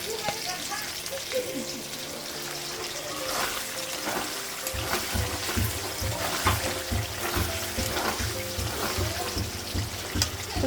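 Water is poured into meat cooking with turmeric, salt and spices, making a sustained splashing, trickling gush that grows louder partway through, mixed with clatter and a voice talking over it.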